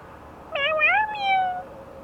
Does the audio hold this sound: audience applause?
no